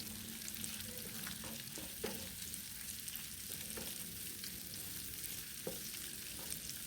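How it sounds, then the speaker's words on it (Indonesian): Chili and sliced carrots stir-fried in a pan for fried rice vermicelli, a steady soft sizzle with occasional scrape and clack of a spatula, close and continuous, no voices. "Nah, kembali lagi dioseng-oseng semuanya ya sampai wortelnya ini agak sedikit layu."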